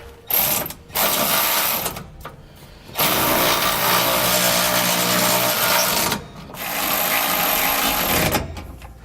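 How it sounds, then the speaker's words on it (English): A power tool runs in several bursts while suspension hardware is tightened with a 9/16 socket, loud buzzing stretches of a few seconds separated by brief gaps. "you're going to come back with a 9/16 socket and wrench and tighten everything up"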